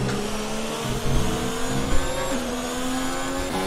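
Formula 1 cars in F1 2019 at the Australian GP roar past in a race, engines screaming with steady high-pitched whine and shifting pitch as they accelerate and pass, loud and continuous with no talk.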